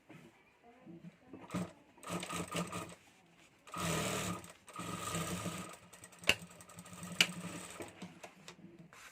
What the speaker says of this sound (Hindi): यहाँ हमें सिलाई कर देनी है, तो यहाँ मैं सिलाई कर देता हूँ।